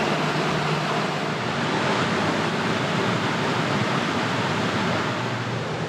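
Creek water rushes steadily where two creeks join in Berowra Valley, a dense, continuous broadband roar that stays even throughout with no voices.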